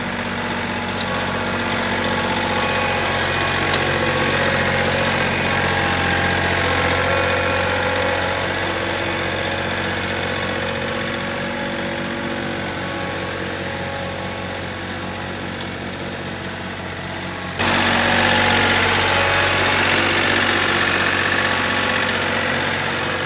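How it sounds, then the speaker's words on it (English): A tractor engine runs steadily while a landscape rake is tried out on a farm, a close, continuous mid-pitched rumble with a slight knock. It shifts and grows a little louder near the end. "try out the landscape rake a little bit"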